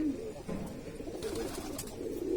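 Soft, low cooing of Kasni pigeons repeats steadily through the clip with faint background noise, no talking.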